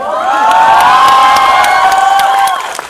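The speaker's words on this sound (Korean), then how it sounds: "박수 한번 주세요." A crowd at a Korean film promotion talk event at COEX in Seoul cheers and shouts continuously, loud and close, with high excited voices blending into a sustained roar that fades at the end.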